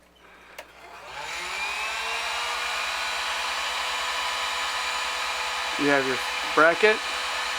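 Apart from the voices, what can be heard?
heat gun heating stiff water line tubing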